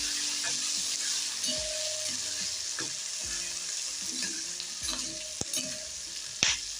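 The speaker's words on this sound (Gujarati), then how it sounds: "મરચાંને બે મિનિટ આ રીતના હલાવીને સરસ રીતના તળી લેવાના છે" Green chillies sizzle in hot oil while a spoon scrapes and stirs the pan in irregular strokes, close up with no talking.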